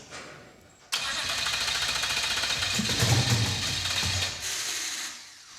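A turbocharged Mazdarati engine cranks and fires up, catching abruptly into a loud, rough, steady roar that surges briefly before settling, close by with no clear speech.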